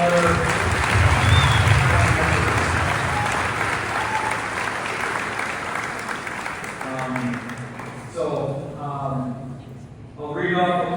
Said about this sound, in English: Let's give them a round of applause for all their.